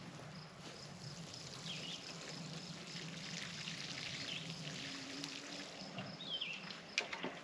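A watering can fills with well water, a steady close pour with a rising gurgle that keeps running throughout, ending with a few clanks.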